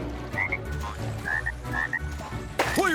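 Cartoonish frog croaks from a LEGO Party video game minigame, a few short chirpy croaks over busy game music, ending with a rising warbling effect.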